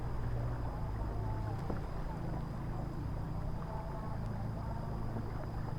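A kayak out on the water in the rainy season gives a steady low rumble mixed with gusty wind noise, continuous and fairly close, with no voices.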